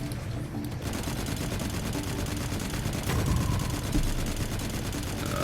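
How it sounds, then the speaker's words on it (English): Rapid, sustained gunfire from a weapon in the sci-fi shooter Firefall, a dense continuous fusillade of shots running loud and steady throughout with no talk. "It's hard because it's a slower bullet, slower projectile."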